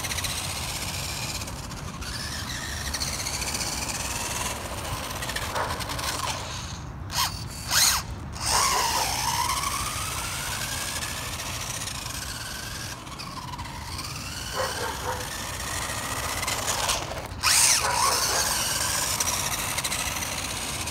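Graupner Pinto RC car, a Varicom/Panda Pandamonium build, driving: a continuous whining motor and gear drone with squealing pitch sweeps and several sharp clattering bursts, fairly loud and close, with no talk.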